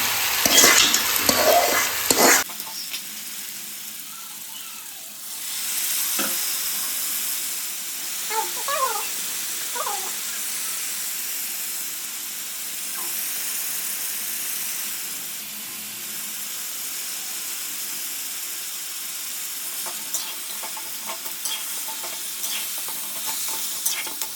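Black mud crab going into a pan of onion, garlic, curry leaves and fenugreek for a Sri Lankan curry, opening with a loud sizzling burst and rattling, then settling into a long steady hiss of frying with occasional stirring clinks.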